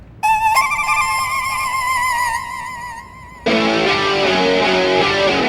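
A loud electronic phone ringtone plays a sustained bright tone, then switches abruptly to a busier, buzzing ring pattern that continues to the end.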